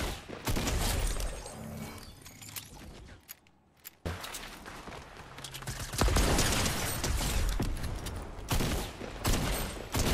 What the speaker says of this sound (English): Uh-oh, somebody's shooting.